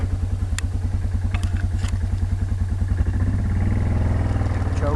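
A 2004 Yamaha Bruin 4x4 ATV engine runs close by with a steady, rhythmic low putter, rising slightly and roughening toward the end as it revs.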